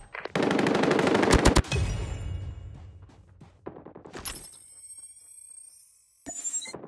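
Automated sentry gun firing long bursts in a Call of Duty match on Nuketown, a loud rapid volley that cuts off, followed by scattered distant shots and a high electronic whine.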